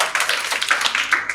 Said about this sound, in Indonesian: Kita tepuk tangan dulu dong buat Tuhan kita Yesus Kristus.